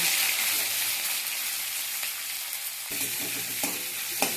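Onions and bay leaves fry in hot oil in a pan, a loud, dense, continuous sizzle close up, with a few soft utensil knocks near the end.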